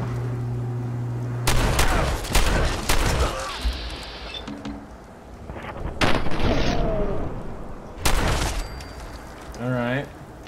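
Shotgun blasts in the video game Fallout 4 boom loudly several times, spaced a second or two apart, mixed with game sound effects and some talking.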